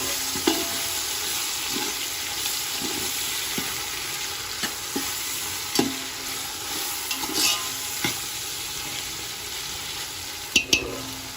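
Thinly sliced red tomatoes sizzle steadily in hot oil for Hyderabadi mutton tahari, with a spatula stirring and scraping through the pan in irregular strokes close by.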